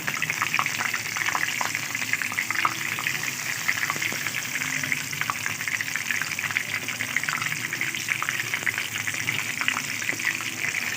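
Fish coated in flour and batter deep-fries in hot oil, producing a dense, continuous bubbling sizzle that stays loud and even from start to finish, close up.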